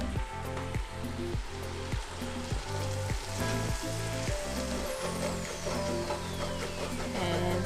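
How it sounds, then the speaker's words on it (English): White wine hits a hot pan to deglaze the stuck bits at the bottom while making potato soup, a steady close sizzle with faint rhythmic scraping underneath. "So now I'm gonna add in white wine because things are stuck at the bottom of the pan"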